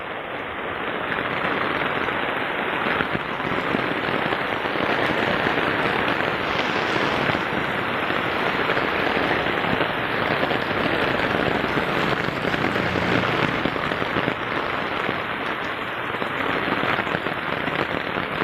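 Steady, heavy rain pouring down close by, a dense continuous hiss and patter that never lets up.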